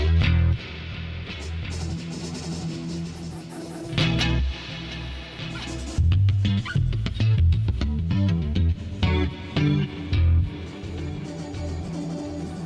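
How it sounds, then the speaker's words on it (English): A dub bass synthesizer patch from the McRocklin suite rumbles through a dense, gritty phrase of heavy low notes that swell and cut off in bursts, loud and close, with no voices. "there's a couple of weird bass sounds that I like in the McRocklin suite"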